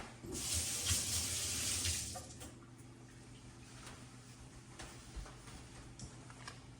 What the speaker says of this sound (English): All right, rinse my hands again.